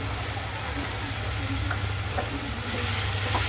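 Egg bhurji with Kashmiri red chilli and pav bhaji masala sizzles steadily in a pan while a spatula stirs and scrapes it in repeated light strokes, close and continuous.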